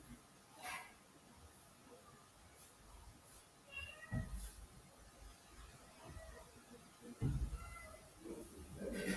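A domestic cat gives several faint, intermittent meows in a quiet room, with some quiet background noise between the calls.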